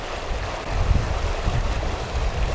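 Waves wash and churn continuously on the water at an underground spillway, a broad rushing surf with gusty wind noise, close and fairly loud with no talking.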